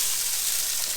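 Finely diced carrots and onion frying in a pan, a loud, close, steady sizzle and hiss with no other sounds.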